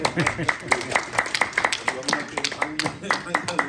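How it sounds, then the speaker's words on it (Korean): An audience at a lecture gives a short round of clapping, sharp claps layered over a continuous voice talking through it. "한 번만 박수 한 번 더 주시면 좋겠습니다"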